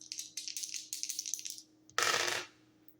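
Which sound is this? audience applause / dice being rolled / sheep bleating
dice being rolled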